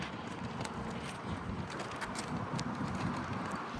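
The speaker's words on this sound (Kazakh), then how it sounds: "Будапештке жел болып тұр бүгін" Wind blows in Budapest, buffeting the microphone with a steady low rumble and gusty noise, loud and close, with no talk.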